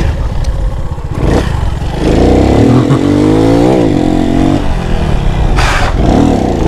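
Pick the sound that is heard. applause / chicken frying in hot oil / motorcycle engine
motorcycle engine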